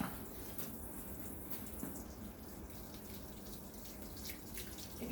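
Tap water runs steadily into a sink during a surgical hand scrub, a soft continuous splashing hiss with faint irregular drips and splatters, fairly quiet and even.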